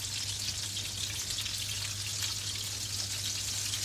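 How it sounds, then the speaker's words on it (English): Meatballs browning in a frying pan give off a continuous, even crackling sizzle like light rain, with a low steady hum underneath and no speech. "We've got browning on all our meatballs."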